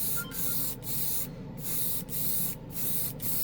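An airbrush sprays paint onto spoons on a hobby bench with a steady close hiss, broken by several brief pauses as the trigger is released and pressed again.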